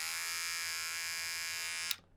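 Cheap Remington electric beard trimmer buzzing steadily at close range, a loud, constant high-pitched motor whine that cuts off abruptly near the end.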